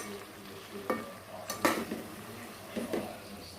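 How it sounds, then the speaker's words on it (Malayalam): Metal spoon scraping and clinking in a pan while meat and cooked dal are stirred together into a curry, a few distinct scrapes and knocks over a quiet sizzle. "നന്നായി മിക്സ് ചെയ്യാം."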